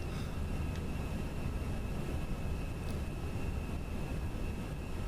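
Vueling Airbus A320-214 climbing out of Malaga in a Prepar3D V4.1 flight simulator, a steady broadband jet engine roar with a faint high whine, continuous and even throughout, with no voices.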